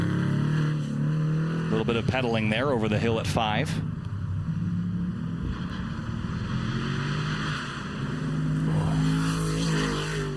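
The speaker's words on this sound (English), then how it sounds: "Look at the sounds of this car again." Race car engines at a GRIDLIFE track battle event at Mid-Ohio, a sustained roar with a rising and falling whine as cars pass, heard beneath continuous commentary.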